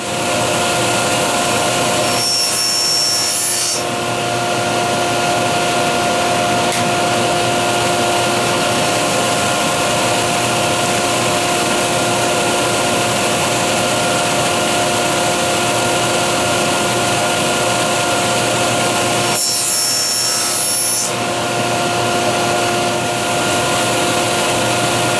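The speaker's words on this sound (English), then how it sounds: "I will be using just a regular crosscut blade in the table saw and miter fence." A table saw fitted with a regular crosscut blade and a miter fence runs loud and steady while cutting wood for candle holders, with two brief dips in the whine.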